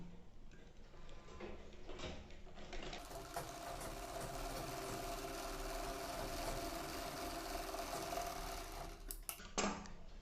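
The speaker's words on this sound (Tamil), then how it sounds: "இப்போ நம்ம இந்த மாதிரி வச்சு இப்போ ஒரு 1/2 இன்ச் நம்ம தையல் போட்டுக்கலாம்" Sewing machine stitching a half-inch seam on cloth, a steady, fast mechanical whirr running nearly ten seconds, starting and stopping with faint clicks.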